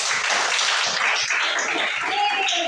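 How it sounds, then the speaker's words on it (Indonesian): A classroom of students claps together during a lesson on the human digestive system, loud dense applause filling the whole stretch with a few voices mixed in. "tepuk tangan"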